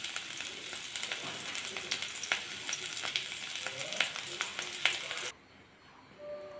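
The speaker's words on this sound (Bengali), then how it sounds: "আর ফুলকপিগুলো ভাজা হয়ে এসেছে।" Cauliflower pieces fry in hot oil in a pan, giving a dense, even sizzle with a few sharp clinks of stirring before it cuts off suddenly near the end, leaving quiet.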